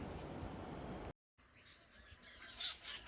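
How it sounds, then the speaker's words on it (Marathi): Birds call and chirp in a garden in the morning against a broad hiss of background noise, with a brief gap of silence partway through. "किती पक्ष्यांचा किलबिलाट मला ऐकू येतोय"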